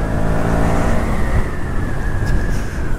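A KTM Duke 200 motorcycle engine held in fourth gear on a top speed run, a loud, steady, high revving whine with wind rush and no talking.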